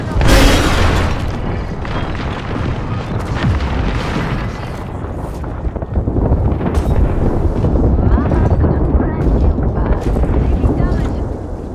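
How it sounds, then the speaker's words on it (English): A deep booming grenade explosion goes off in the Apex Legends battle game, a loud blast followed by rumbling, wind-like game noise. A player talks briefly over it. "Fight! Grenade!"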